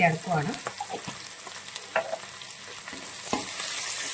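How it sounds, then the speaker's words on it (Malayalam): Onions and green chillies sauté in a pan, a steady sizzle broken by a few scraping strokes of a spoon early and midway, close and fairly loud, with no one speaking. "ഉള്ളിയും പച്ചമുളകും ഇട്ട് ഇത് വഴങ്ങണം നന്നായിട്ടൊന്ന് വഴന്നു വന്നേക്കാം"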